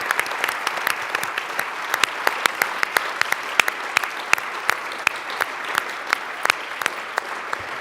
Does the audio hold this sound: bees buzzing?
no